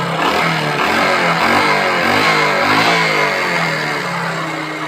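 A Hero Glamour motorcycle engine runs close and loud during carburettor tuning, its rpm wavering up and down in a rough, pulsing drone.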